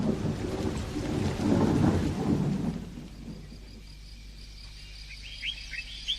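Thunderstorm with rain as a radio drama sound effect: a heavy rolling rumble of thunder over steady rain that fades to a quieter patter, with faint high chirps near the end.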